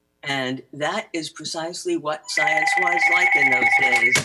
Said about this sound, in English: that was a phone that rattled me for a minute